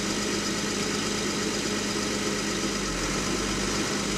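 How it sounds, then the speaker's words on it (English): Tractor engine running steadily as its PTO engages to drive a feed mixer, a continuous loud mechanical drone with low vibration and no talk. "PTO came on."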